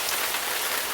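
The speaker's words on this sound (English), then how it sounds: "heavy rain downpour" Heavy rain falls in a steady, dense downpour, a loud, even hiss of drops hitting a surface with no gaps and no voices.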